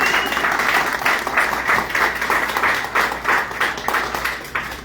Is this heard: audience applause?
yes